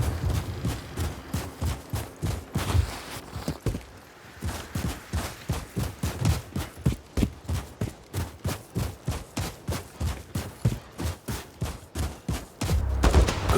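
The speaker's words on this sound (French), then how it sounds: "Je me fais tirer dessus à l'autre bout de la Syrie." Sustained rapid gunfire in the Call of Duty Modern Warfare video game, a long run of evenly spaced bursts with a brief lull, loud and continuous throughout.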